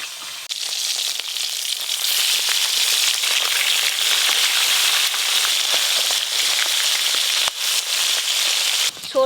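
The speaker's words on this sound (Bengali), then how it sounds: "এবার মাছগুলো ভেজে নেব।" Fish sizzling and crackling steadily in hot mustard oil in a home kitchen, a dense, loud bubbling fry that runs unbroken for several seconds, with no talk over it.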